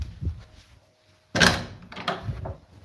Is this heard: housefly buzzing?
no